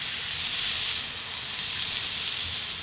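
Untreated, unseasoned Galloway steak sizzles on a preheated salt plank on a grill, a steady loud hiss throughout with no talk.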